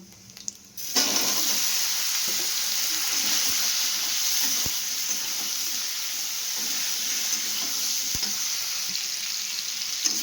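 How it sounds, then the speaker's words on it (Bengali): Vegetables fry in a pan with panch phoron and dried chillies, a loud steady sizzle that starts abruptly after a quiet moment and holds evenly, with a few soft scraping taps and no voices. "সবজিটা ভাজা ভাজা হয়ে এসছে"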